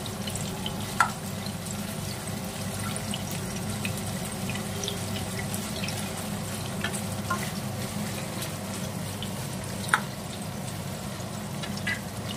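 Paneer frying gently in a pan until lightly browned, a soft continuous sizzle with faint bubbling and a couple of sharp utensil taps.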